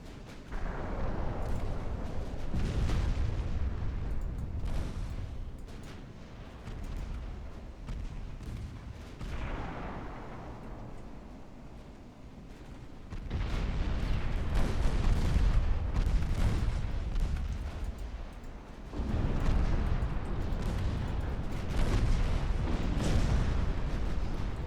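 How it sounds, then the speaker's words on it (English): Naval gunfire from battlecruisers and battleships in the Ultimate Admiral: Dreadnoughts video game: repeated loud booming salvos, heavy and rumbling, in dense overlapping bursts that swell and ease, with no speech. "Battle cruisers are opening up. And my battleships."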